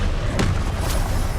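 A Confringo fire-blast spell going off in the video game Hogwarts Legacy: a single loud, low boom with a short burst on impact, set against a rumbling game soundscape.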